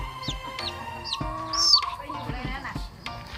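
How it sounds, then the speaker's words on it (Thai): Hybrid laying hens cluck and squawk in a close, busy coop, with short calls scattered throughout and one louder squawk in the middle. "ไฮบิดคือไก่ที่เป็นสายพันธุ์ที่ไข่ดกที่สุดนะครับ"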